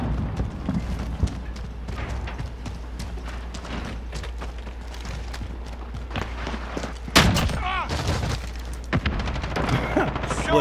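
Gunfire and explosions from Modern Warfare online multiplayer, dense overlapping shots and booms throughout, with a sharp loud burst near the middle and continuous battle noise under faint talk.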